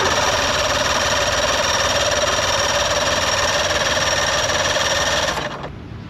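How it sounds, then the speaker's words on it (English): Mercury 75HP outboard motor that won't start being cranked, a loud steady buzzing whir from the starter running continuously for about five seconds before cutting off. "we're gonna crank the motor"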